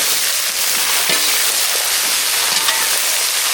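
Raw plantain stir-frying in a pan with popping mustard seeds and curry leaves makes a loud, dense, continuous hiss and sizzle, close and unbroken.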